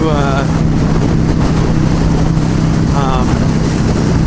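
A motorcycle fitted with a Drag Specialties steering damper blasts down the highway at speed, a loud continuous engine drone buried in heavy wind roar, with a rider's voice faintly under it.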